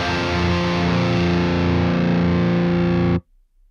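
A heavily distorted electric guitar sustains a thick, buzzing chord for about three seconds, then cuts off abruptly to near silence as a noise gate closes.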